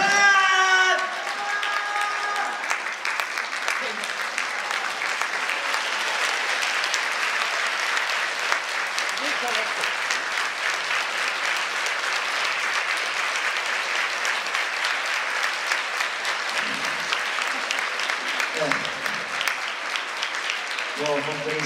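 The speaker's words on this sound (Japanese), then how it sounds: "こうやってね、今拍手してくれるお客さんも本当にありがとうございます" A dinner show audience applauds, sustained dense clapping that fills the room steadily for a long stretch, with brief voices at the start and near the end.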